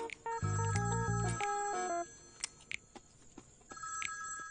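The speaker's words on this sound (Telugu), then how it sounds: "ఫోన్ మోగుతుంది, తీసుకురాపో." A telephone rings with a melodic, electronic-sounding tone, a loud burst of several stepped notes in the first two seconds, followed by a quieter background with scattered clicks and a softer tone returning near the end.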